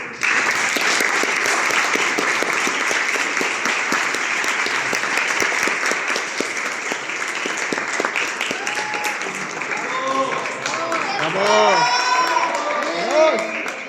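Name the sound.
audience applause for the oratory contest participants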